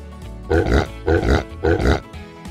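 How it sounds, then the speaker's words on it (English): A pig grunts in three short, loud bursts spaced evenly about half a second apart, close up with no talking. "It's a pig."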